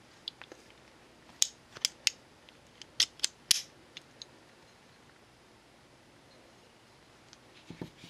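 Sharp metallic clicks and scrapes come from a Sig Sauer P238 pistol as its slide is pushed back onto the frame during reassembly, a handful of close, crisp snaps clustered in the middle over near silence.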